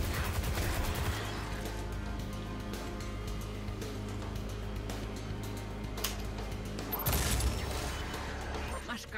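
Gunfire in the game Serious Sam, rapid crackling shots and heavy blasts over a low droning background, with a louder burst of explosions near the end and someone talking over the action.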